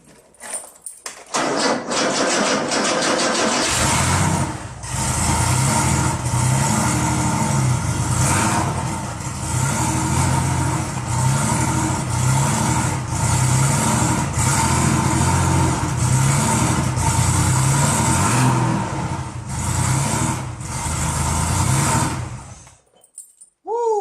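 Porsche 911 engine cranking briefly, then catching and settling into a steady, loud idle nearby for about twenty seconds before shutting off.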